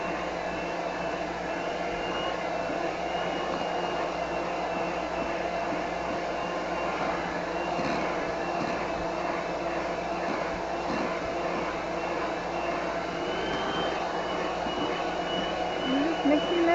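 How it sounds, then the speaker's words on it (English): Electric mixer whirring steadily through a batch of hot process soap, a continuous even drone running the whole time with no pauses. "Alright, so I think I can turn on the mixer now."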